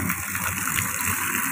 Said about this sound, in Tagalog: Ito, flowing water din dito.